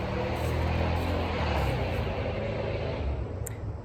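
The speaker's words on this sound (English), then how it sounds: "So many loud cars." Loud cars roar past on a nearby major highway, a continuous heavy rush of traffic noise with low rumbling that swells and eases, fairly close and steady throughout.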